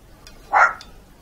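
A dog gives a single short, faint bark against otherwise quiet surroundings.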